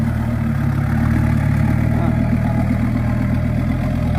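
A Hitachi EX200-1 excavator engine idles in a steady, low, continuous diesel drone that stays even throughout.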